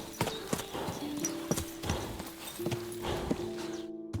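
Horse hooves clip-clop at a steady walking pace in the Kingdom Come Deliverance II video game, close and distinct, with a tonal musical or ambient hum running beneath and no talk.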